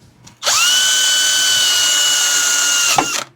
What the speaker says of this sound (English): Drill battery's dying